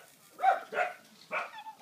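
Dogs bark in a sandbox game, three or four short, sharp yips in quick succession, close and clear over near silence.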